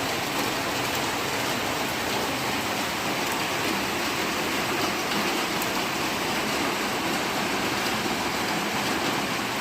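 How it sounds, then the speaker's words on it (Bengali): Rain falls without letup on a grey monsoon day near large leaves and a path, a thick, uniform hiss of drops on surfaces that stays loud and unbroken. "সমানে বৃষ্টি হচ্ছে।"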